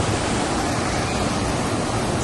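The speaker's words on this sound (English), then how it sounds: "And this is the flow rider." FlowRider surf simulator at the back of a cruise ship, with water rushing in a loud, constant, broad hiss that stays steady throughout.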